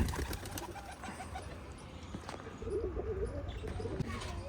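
Pigeons coo softly in a loft, among them a red Chini hen, with low murmuring calls and scattered wing and foot noises against steady background rustle.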